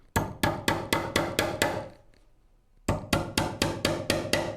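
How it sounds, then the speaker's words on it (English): Hammer blows drive nails into a Shaker Enfield cabinet: about seven sharp, evenly spaced strikes, a brief pause, then another steady run of six or seven close, loud hits. "but we're going to start nailing this round"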